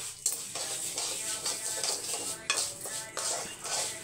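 Vermicelli roasting in ghee in a pan, with a steady soft sizzle and scraping stirs and clinks of a spoon against the pan throughout, close and moderately loud.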